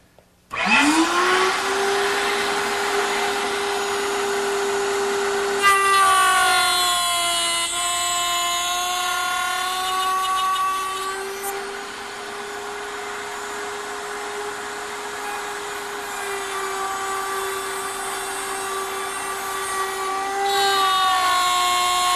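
An electric router spins at a router table while cutting wood, a loud sustained whine that dips slightly in pitch as it bites in, then holds steady for a long stretch.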